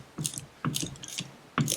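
A hand ratchet works a shoulder bolt on an old 1.5 ton floor jack, giving three or four short bursts of metallic clicking, close up and fairly quiet.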